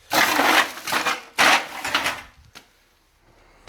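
Lumps of lumpwood charcoal for a metal-melting furnace are handled in a garage workshop, giving loud dry crunching and clattering bursts close up, then a short quiet spell and a final knock.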